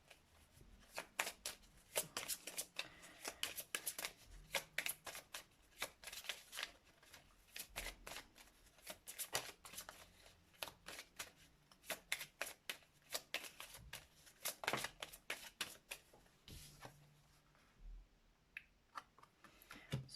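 Heal Yourself reading cards shuffled by hand, a long run of crisp riffling flutters and taps repeating steadily at close range, with almost no talk.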